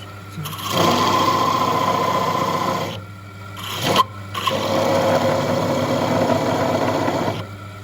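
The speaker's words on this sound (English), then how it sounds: "is made up with a burr and a piece of black Maori rod, and that will spin around there and give us a texture on those balls" A wood lathe spins a burr and a black rod against turned wooden balls to texture them, a loud steady whirring drone that stops briefly midway and then resumes.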